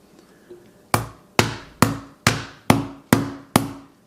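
A hammer striking an iPhone 12 Pro screen: seven sharp, ringing impacts at a steady pace, each decaying quickly, loud and close, after a faint light tap.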